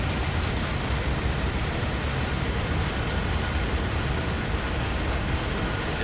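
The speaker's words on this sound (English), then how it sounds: "I like this ES44, but it's loud. It's real loud." A CSX ES44 diesel locomotive in Train Sim World 6 rumbles loudly and steadily on a freight run in New York, a constant heavy roar with rail noise and no break or voices.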